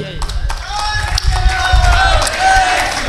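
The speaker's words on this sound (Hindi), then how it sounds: "तुम्हारी ताली कमजोर क्यों हो रही है?" Crowd clapping at a religious gathering, loud dense applause running throughout, layered with a raised voice and tonal sounds over it.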